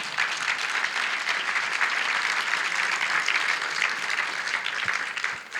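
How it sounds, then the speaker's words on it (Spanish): Sustained, steady applause from a church congregation praising the Lord, a dense even wash of many hands clapping at moderate level, with no speech over it. "Ahora, denle un aplauso al Señor"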